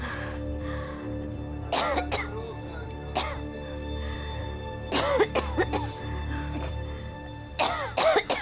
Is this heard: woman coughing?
yes